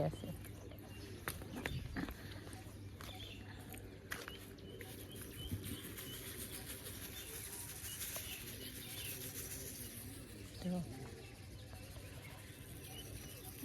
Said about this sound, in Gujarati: જોઈ જો કબૂતરા આવી